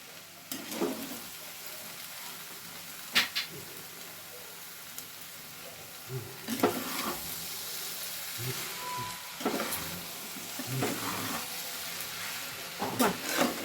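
Potatoes in a cauliflower curry are stirred in a pan: sharp spoon scrapes and clacks come at irregular intervals over a faint, steady background sizzle, close by.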